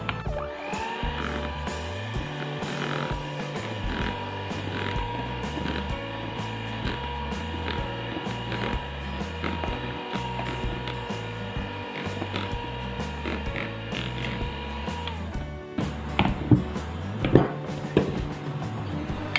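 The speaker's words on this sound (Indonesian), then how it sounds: "ini mau aku mixer sampai tercampur rata aja dengan kecepatan rendah aja" Electric hand mixer on low speed blending red velvet cake batter for a steamed cake, a steady whirring mechanical drone with a ratcheting, clicking texture that runs continuously throughout, close and fairly loud.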